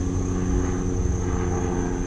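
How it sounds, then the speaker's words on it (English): A medical air-ambulance helicopter passes overhead above a homestead garden, a steady loud engine drone with a fixed high whine, continuous and without talk. "That's a stat flight helicopter."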